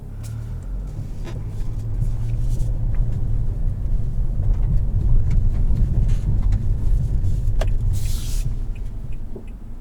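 A 2019 Nissan Altima Platinum Turbo with a CVT driving on the road, a steady low engine and road rumble from inside the cabin with a brief whirring noise near the end.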